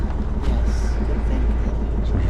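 An older boat engine idles steadily at a mooring at Newtown Creek, a deep continuous low rumble with a constant throb and some wind and water noise over it.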